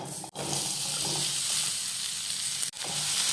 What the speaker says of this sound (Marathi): आता हा कांदा भाजून घेऊयात